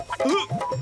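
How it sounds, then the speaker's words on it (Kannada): A cartoon chicken, from the animated series Motu Patlu, gives a quick burst of agitated, loud clucks over less than a second, sounding close and alone. "ಓಯ್ ಕೋಳಿ, ಓಯ್."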